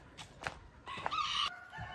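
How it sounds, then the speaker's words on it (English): Chickens at a backyard house give a few sharp clucks followed by a loud rooster crow close by, then quieter clucking, with no talk. "Look at all these chickens"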